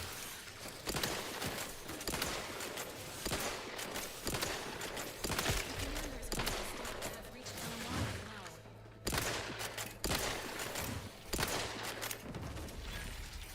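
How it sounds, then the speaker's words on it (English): Enemy gunfire in the video game The Outer Worlds 2: repeated bursts and volleys of shots with rapid automatic fire and mechanical clatter, loud and continuous across the stretch, with a player talking over it. "Kill that thing. It's shooting at me."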